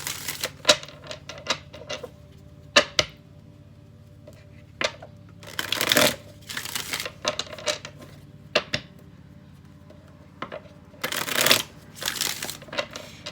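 Tarot cards being shuffled by hand, bursts of riffling and slapping card sounds in irregular clusters, close and fairly loud with quiet gaps between.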